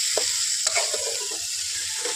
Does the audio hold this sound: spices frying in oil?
yes